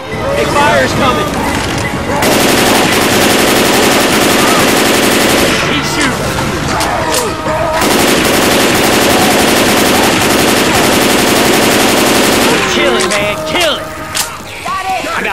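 Loud, sustained automatic gunfire in the zombie shooter Left 4 Dead 2, long dense bursts with short gaps, plus scattered single shots and game effects, while players talk over it.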